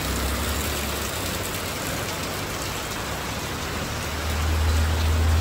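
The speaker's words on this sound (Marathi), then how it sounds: "जोरादार पाऊस आहे" Heavy rain pours in a loud, continuous broadband wash, with a low rumble building toward the end.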